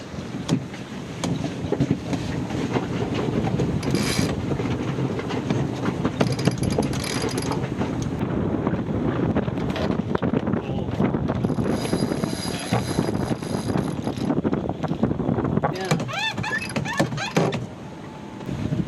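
A sailboat tacking under autopilot in gusty, shifting wind near head to wind, with steady wind and water rush throughout, mechanical whirring and creaks from the gear, and brief bursts of higher-pitched mechanism noise.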